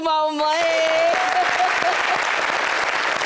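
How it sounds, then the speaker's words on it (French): Studio audience applause on a French-language television show, loud clapping swelling right after a brief sung or spoken note and continuing steadily. "Applaudissez-vous"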